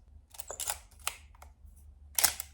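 A Minolta SRT101 35mm film camera fires its mechanical shutter in a series of crisp, close clicks and clacks, spaced irregularly across a couple of seconds in an otherwise quiet room.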